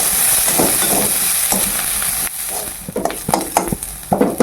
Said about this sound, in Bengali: এখন দিয়ে দিচ্ছি পেঁয়াজ কুচি।